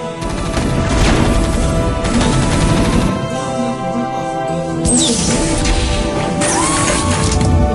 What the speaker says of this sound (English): units are blowing up faster than I have seen in a while